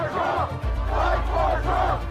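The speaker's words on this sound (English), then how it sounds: "As Mike Pence arrives, a crowd is already assembled at the barricades in front of the East Plaza of the Capitol." Crowd gathered at the barricades in front of the East Plaza of the U.S. Capitol, a steady loud roar of many voices with rising shouts and cheers swelling in repeated waves.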